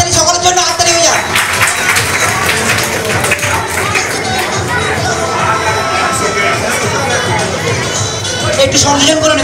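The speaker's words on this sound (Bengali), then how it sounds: "হাততালি সকলের জন্য হাততালি হয়ে যায়" An audience claps at a school quiz contest in a hall. The applause is loud and continuous, mixed with crowd chatter and children's voices.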